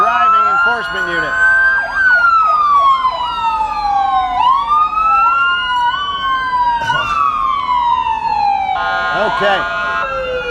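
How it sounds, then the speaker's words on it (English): Several emergency vehicle sirens wail and yelp at once at a parade, loud and continuous, rising and falling in overlapping sweeps with traffic rumble underneath. "Loud sirens."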